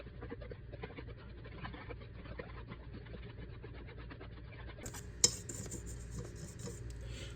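Blackberry cobbler batter is mixed in a bowl with soft, continuous scraping and rubbing strokes, quiet and close, ending with a few brighter clinks of the utensil against the bowl.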